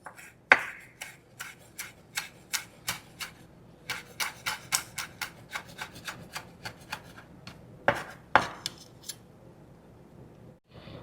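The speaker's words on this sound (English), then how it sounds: "Now, I am going to cut up some of my parsley." Fresh parsley chopped with a knife on a board, a run of crisp rhythmic cuts in quick succession, close and dry, with brief pauses and a couple of heavier strokes; no talk.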